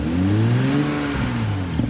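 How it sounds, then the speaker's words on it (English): A 2020 Toyota Supra engine revs close up, a steady droning note climbing and sagging slowly as it struggles to rise, with a small clatter near the end and no talk. "I guess it just takes a long time for it to rev."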